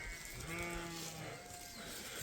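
A large flock of sheep and goats on foot with nomadic shepherds, several faint overlapping bleats rising and falling against a steady background hiss.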